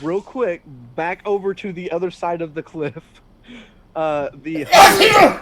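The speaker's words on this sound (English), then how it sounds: "That was an aggressive sneeze." An aggressive sneeze erupts loudly at the end, a sudden noisy burst following a stretch of close conversational speech.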